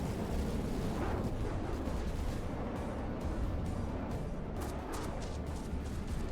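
Torpedo hits exploding in a From the Depths naval battle, heard as a dense, continuous rumble of heavy blasts with several sharper bursts late on, loud and sustained with no talk.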